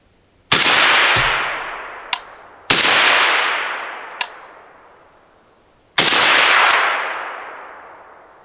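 Three loud suppressed rifle shots fire through a Dead Air Sandman S suppressor at uneven spacing. Each is a sharp crack followed by a long decaying hiss, and small metallic pings fall between the shots.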